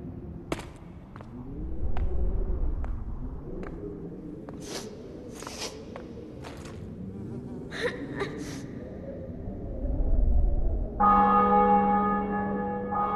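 Bells ring in a captured city in the video game The Witcher 2: Assassins of Kings. Faint sparse chimes build to a loud, sustained, resonant peal at the end over a low background murmur.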